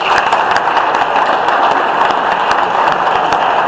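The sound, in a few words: audience applause for sponsor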